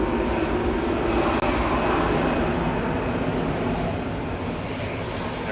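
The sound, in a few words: EasyJet airliner departing Manchester Airport for Kefalonia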